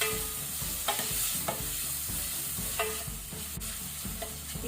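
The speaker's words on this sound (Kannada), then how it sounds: "ಆ ನಂತರ ಟೊಮ್ಯಾಟೊ ಮತ್ತೆ ಹಸಿಮೆಣಸು ಸೇರಿಸಿ ಇದನ್ನು ಸ್ವಲ್ಪ ಫ್ರೈ ಮಾಡ್ಕೊಳ್ಳುವ" Tomato and green chilli frying over low heat in a pan for crab curry, a steady close sizzle broken by a few sharp stirring scrapes and clinks, with no voices.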